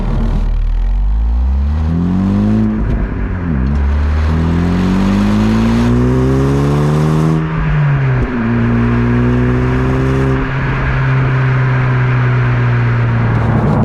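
Honda Civic Type R FL5 engine and exhaust heard from inside the cabin, loud continuous revving that climbs through the gears with brief dips at each shift, no talking.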